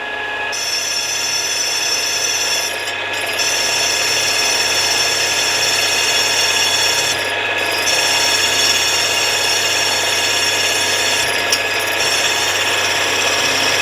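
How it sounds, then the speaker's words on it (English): A loud, continuous whine of a power drill grinds steadily for over ten seconds, briefly dipping three times as the bit cuts holes through a metal block for a Stuart S50 steam engine base. "let's do some drilling"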